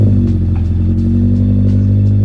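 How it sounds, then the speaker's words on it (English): Subaru BRZ boxer engine idling with a loud, steady low exhaust rumble, even and sustained throughout before cutting off abruptly at the end. "That iconic boxer rumble you would expect only out of a Porsche or something like that"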